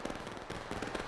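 A musket volley fired in the Civil War game War of Rights: a dense, crackling burst of many overlapping shots lasting about a second, loud and rough with no clear gaps between reports.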